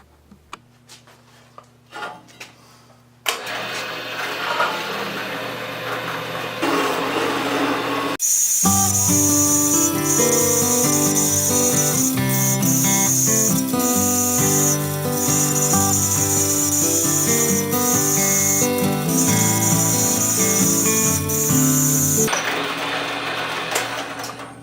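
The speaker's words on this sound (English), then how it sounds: "We'll go to the bandsaw and cut these notches out." A bandsaw cuts notches into stock for a mobile base. After a few short, quieter knocks and hums, a loud steady whine with a bright high edge runs for about fourteen seconds, then stops.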